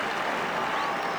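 Crowd at a rugby union match between the Home Nations and Europe applauding a well-struck kick, steady broadband clapping at moderate distance lasting throughout.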